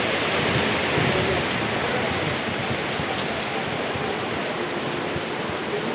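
Heavy rain at night in Kopargaon, Nashik district, roars continuously and loudly, a dense broadband wash with no breaks, close and unrelenting throughout.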